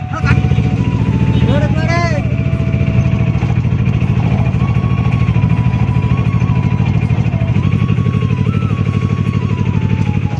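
A motorcycle engine starts and keeps running in a steady, loud idle that fills the whole stretch, with people talking over it throughout.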